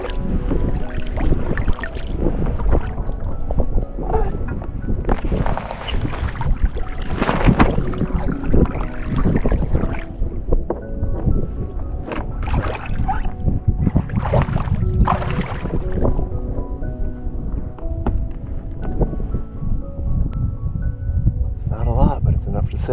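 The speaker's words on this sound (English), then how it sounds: "Nothing to do but paddle my kayak today." A kayak paddled on Lake Superior, with continuous water swishing and splashing from paddle strokes close by, mixed with wind buffeting the microphone throughout.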